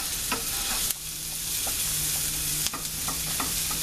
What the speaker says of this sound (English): we're just going to let this saute up, and yes, I'm scraping the pan as I do this